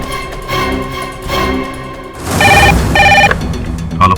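A telephone rings on an outgoing call to the police, with two clear electronic ring bursts close by after a stretch of low background tones.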